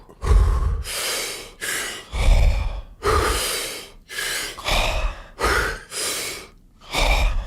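A deep breathing exercise: about eight loud, breathy breaths in and out, close to the microphone, in a steady slow rhythm with brief pauses between them and no speech.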